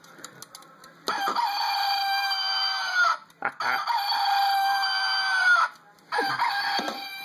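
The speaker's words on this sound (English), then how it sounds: "Got a nice rooster timer." A rooster-shaped kitchen timer sounds its electronic crowing alarm, three long bright cock-a-doodle calls with short gaps between them, close and clear, preceded by faint clicks.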